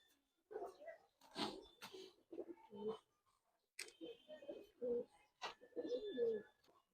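A pair of large army racing pigeons coo close by in repeated soft, throaty bursts separated by short pauses.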